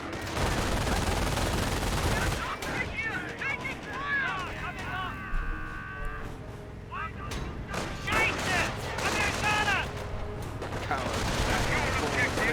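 Infantry squads trade gunfire in a Company of Heroes battle: rapid rifle and machine-gun bursts crackle over a dense, rumbling wash of combat, with a voice commentating throughout.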